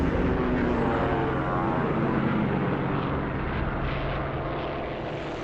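French Air Force bomber aircraft take off with a heavy, sustained engine roar and droning propeller tones, loud and close before slowly easing. No voices are heard.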